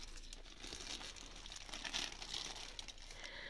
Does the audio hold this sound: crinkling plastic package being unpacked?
yes